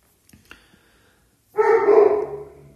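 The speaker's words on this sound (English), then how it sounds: "my apologies for the dog barking" A dog gives one loud, close bark after a few faint knocks and bumps indoors.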